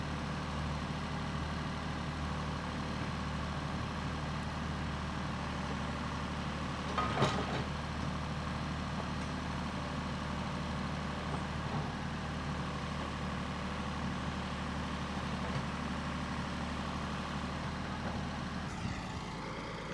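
A backhoe engine idles at a pond dig site, giving a steady low rumble throughout with a faint clunk partway through.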